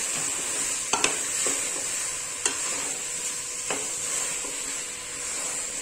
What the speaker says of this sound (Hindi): हम इस भिंडी को अच्छी तरीके से चला लेंगे